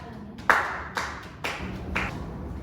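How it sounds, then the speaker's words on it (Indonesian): Slow, separate claps in a classroom, four distinct hits spaced about half a second apart, fairly quiet and close with no talk over them. "sekarang Ibu mau memberikan tepuk tangan."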